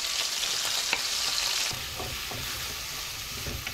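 Onion and garlic frying in olive oil for a seafood rice stew, a steady bright sizzle up close that eases slightly partway through, with a few soft stirring knocks and no talking.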